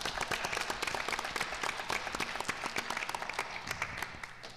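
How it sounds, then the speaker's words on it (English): Another round of applause at a school board meeting, a moderately sized room of people clapping with distinct claps audible, steady before fading out at the end. "I think we should have one more round of applause for Ms."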